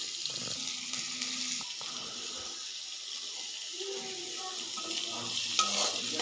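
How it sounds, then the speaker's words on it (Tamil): Pirandai (veld grape) sautéed in oil with tomato and garlic for a village-style chutney, producing a soft continuous sizzle with occasional stirring noises, fairly quiet and with no one speaking. "பிரண்டைக்கு தகுந்த மாதிரி நம்ம எண்ணெய் ஊற்றி வணக்கணுங்க"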